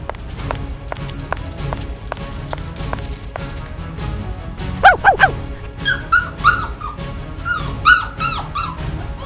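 A cartoon dog whimpers and yips in a series of short high whines, preceded by a run of regular ticking beats and followed by rapid whimpering cries, fairly loud and close with no talk over it.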